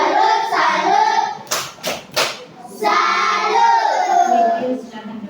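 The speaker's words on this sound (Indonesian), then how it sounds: "Sekarang tepuk salut dulu untuk Catherine." A school class does a rhythmic salute clap in an Indonesian-language lesson: three sharp, close claps land between bursts of loud group chanting and shouting.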